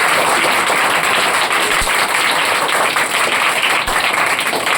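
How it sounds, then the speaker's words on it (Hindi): Loud, dense applause from a gathering celebrating schoolchildren at a result ceremony, steady clapping filling the whole stretch with no voices on top. "तो इस सभी के लिए एक बार जोरदार ताली दें।"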